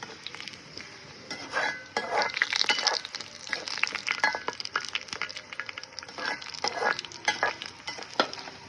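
Road-side vada deep-frying in hot oil, a steady crackling sizzle with busy bubbling bursts and occasional clinks of a ladle or utensil against the pan, close and continuous without talk.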